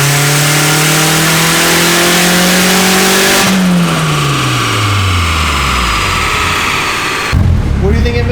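A turbocharged car engine fitted with an old eBay turbo kit, wastegate set near 7 PSI, revs hard for about three seconds, then winds down loudly in a long falling tone before cutting off abruptly.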